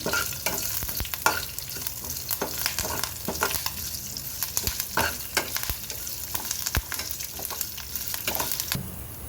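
Curry leaves dropped into hot oil in a pan with the heat switched off, crackling and sizzling close by, with frequent sharp stirring clicks over a steady frying hiss.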